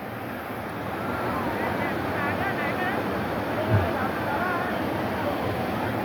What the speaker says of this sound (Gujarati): જો પાણી પડે ઉપરથી ને.